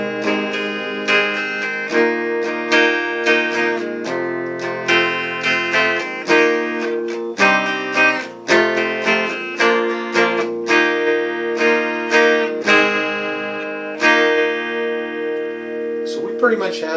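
A guitar plays a song's intro and middle section in steady strummed and picked chord phrases, with a regular rhythmic pulse, close and clear, ending in a brief flourish with no talk over it.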